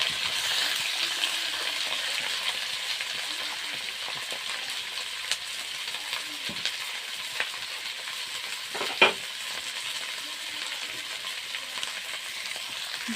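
Eggplant pieces fry in a pan with a steady, moderate sizzling hiss, a few soft clicks and one sharper tap breaking the continuous sound.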